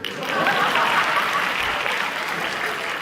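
An audience applauds, a dense wash of steady clapping that holds at an even level for the full few seconds, with no voices standing out.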